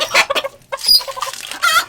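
Polish hens cluck and squawk in a backyard coop, close and loud, in quick irregular bursts with overlapping calls.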